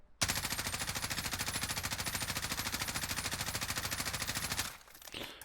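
Sustained automatic gunfire from a weapon in the video game Warzone, a rapid even stream of sharp loud shots for about four seconds before stopping abruptly, with no talk.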